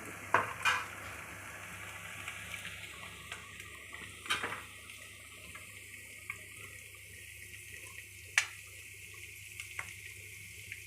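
Shredded cabbage is tipped into a frying pan and stirred in a home kitchen while cooking a cabbage curry, with soft sizzling and a few sharp scraping clanks of the spoon against the pan at scattered moments.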